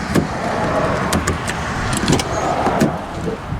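A 2007 Chevy Silverado 2500HD pickup with the Vortec 6.0-liter V8 and an engine fault runs steadily nearby, a broadband rumbling drone with scattered ticks and clicks throughout, no talking.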